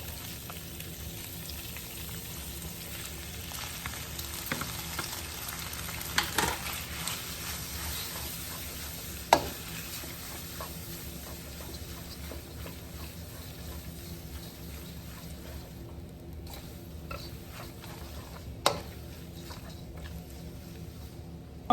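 Shrimp and rice noodles fry quietly in a pan, a faint steady crackling sizzle with a few isolated sharp ticks, no voices.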